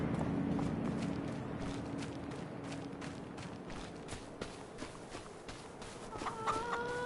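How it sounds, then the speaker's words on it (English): Chickens cluck in a Farming Simulator 25 farmyard, soft scattered clucks over a low steady ambient bed, with a few brighter chirps and tones near the end; no one speaks. "Chickens."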